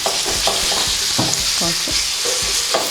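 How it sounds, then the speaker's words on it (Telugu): Ground red chilli pickle paste fries in a pan, giving a constant loud hiss and sizzle broken by repeated soft scraping strokes of a stirring spoon, close and with no talking. "కొంచెం ఫ్రై అయ్యాక ఆల్రెడీ గ్రైండ్ చేసుకున్న పచ్చడిని వేసి"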